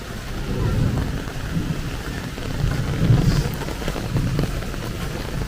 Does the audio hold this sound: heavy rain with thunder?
yes